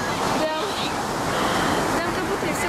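Ocean surf breaking on Baker Beach in San Francisco, a loud continuous roar of waves with wind buffeting the microphone, voices faintly mixed in.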